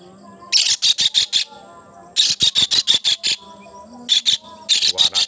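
A night bird calling beside a fish pond gives repeated high, shrill chirping bursts in quick rhythmic clusters separated by short pauses, loud and close, with insect-like buzzing in the background.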